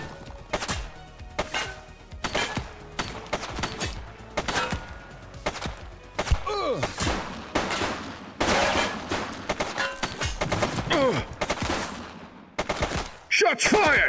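Rapid gunfire bursts from a police shootout in the game The Precinct, loud sharp cracks repeating across the whole stretch with brief gaps, mixed with game noise and occasional voices.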